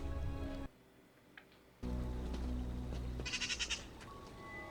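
A few short bleats like goats sound briefly, separated by a sudden quiet gap, over a steady low background.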